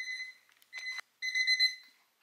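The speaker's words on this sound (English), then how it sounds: "Yes, you hear alarm because I decided, okay, it is time to wake up early." Alarm clock ringing in an apartment early in the morning, loud repeated electronic beeping bursts with short pauses between them, heard alone.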